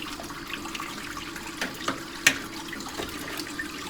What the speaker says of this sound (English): Rinse it all off here.